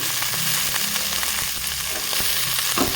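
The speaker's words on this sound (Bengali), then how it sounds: "সব সবজি আমি একটু হালকা ভেজে নেব" Cauliflower, beans, carrots and other vegetables frying lightly in a pan make a loud, steady sizzle up close with faint stirring, no voices.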